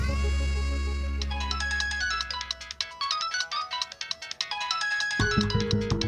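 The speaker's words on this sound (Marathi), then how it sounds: "तुमचा फोन वाजतोय" A mobile phone ringtone plays in a home during a Marathi TV serial scene, a loud, bright melodic pattern of quick repeated notes that runs steadily for several seconds with no talking over it.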